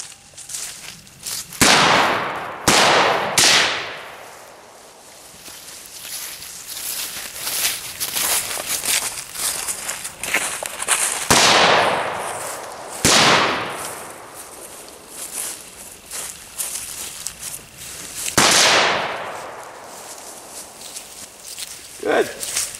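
Gunshots fired at targets behind cover during a six-dot shooting drill, a few sharp loud cracks spaced out over ongoing background noise.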